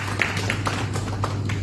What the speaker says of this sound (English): I think they deserve a round of applause from all of